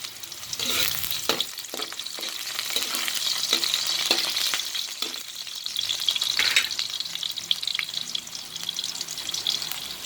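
Kikiam fish balls fry in a pan with a steady, close sizzle and spatter that runs the whole time, broken by scraping stirs and a brief trickle of water.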